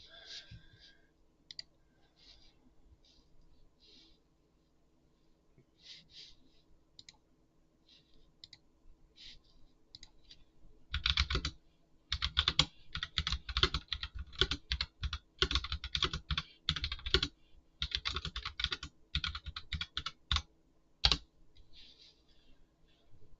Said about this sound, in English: Don't mind the clickety clackities of the keyboard.